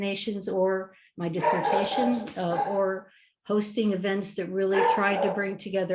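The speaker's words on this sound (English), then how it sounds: "and that's my dog" A pet dog barks in short bursts in the background of a home setting while someone speaks continuously over it during a talk about small island nations and climate adaptation.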